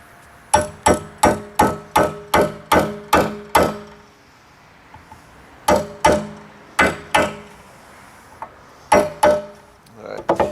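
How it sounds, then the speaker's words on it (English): Sharp metallic hammer taps ring out in quick, even bursts—a run of about eight, a pause, then a few more groups of strikes, close and loud—tapping a part into place on a Honda Accord valve cover. "the sound of you tapping on the hammer actually changes too"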